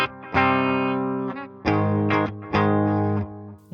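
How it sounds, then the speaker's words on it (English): An electric guitar runs through delay and compressor on an IK ToneX amp modeler, with about four loud, distorted strummed chords, each sustaining and decaying before the next, alone without speech. "We'll hear what it sounds like with the delay in the compressor."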